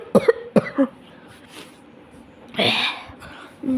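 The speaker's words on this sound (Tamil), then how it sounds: "மனசுக்காங்க டக்குன்னு இருமல் வந்துருச்சு." A few sharp coughs come in a quick cluster near the start, followed by a louder throat-clearing burst a few seconds later, close and distinct against a quiet room.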